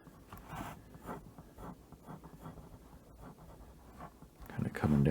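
A pen scratches across paper in soft, intermittent strokes while drawing a small wizard figure's legs, faint and close, with a person talking over the strokes.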